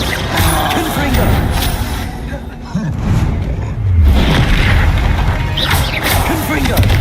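Spell blasts and explosions from the Confringo spell in the Hogwarts Legacy video game, loud booms and crashes that rumble continuously, heavily overlapped with other battle noise throughout.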